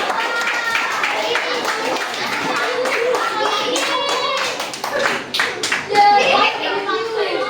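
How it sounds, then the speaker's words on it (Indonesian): A classroom of students claps for a student group, quick uneven hand claps close by, mixed with children's voices and chatter. "kita berikan tepuk tangan buat kelompok 5 maju dong"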